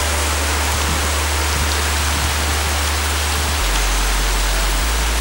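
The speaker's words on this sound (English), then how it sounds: "we woke up to a monsoon," Heavy monsoon rain pours down steadily in Kotor, Montenegro, a dense, continuous hiss of rainfall close by, with a low rumble underneath and no voices.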